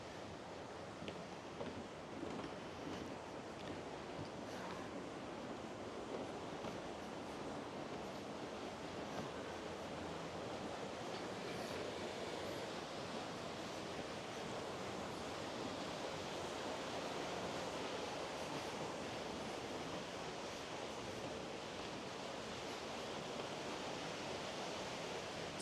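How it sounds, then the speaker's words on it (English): Water moving around the Port Orleans Riverside resort gives a faint, steady rushing wash like flowing water or a small fall, continuous and even with no talking. "the sound of the water moving"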